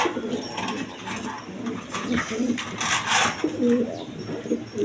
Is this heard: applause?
no